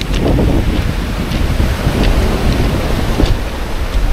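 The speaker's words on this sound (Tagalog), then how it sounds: "Grabe, ang lakas ng ulan." Heavy tropical downpour lashing a beach cave shelter in Mauban, Quezon during a storm, a dense steady roar of rain with gusting wind and surf underneath, loud and continuous throughout.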